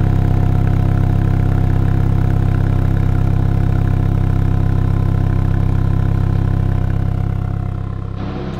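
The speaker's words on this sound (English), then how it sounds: "I'm just going to give you a few seconds just to hear the sound of it." Close and loud, a 2022 MINI Cooper JCW engine idles steadily with a smooth, even hum, then the level drops in the final second.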